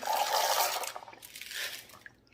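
Water splashes and gurgles into a rock tumbler barrel holding mahogany obsidian and ceramic media, a close pouring rush that trails off into a few drips.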